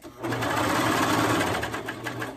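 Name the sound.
sewing machine sewing elastic hem with zigzag stitch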